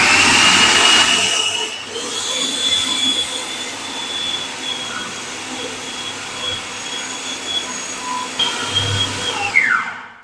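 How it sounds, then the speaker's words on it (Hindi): An electric chopper mincing raw meat for kebabs runs as a loud, steady motor whine close by, with a high tone that drifts and dips as it winds down near the end. "कीमे को मैंने तकरीबन 3 मिनट तक पीस लिया।"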